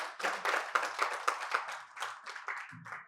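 Sparse applause for a speaker at an annual lecture on tax reforms, a handful of distinct claps in a loose rhythm, fairly quiet and thinning out toward the end.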